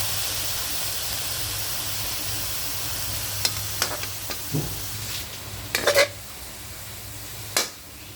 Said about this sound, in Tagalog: Ilagay ko sa kawali para lumabas yung kanyang sariling mantika